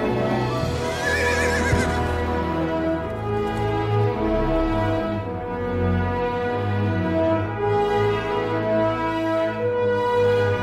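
A horse whinnies and neighs over a dense, sustained film-trailer musical score that continues throughout, loud and steady.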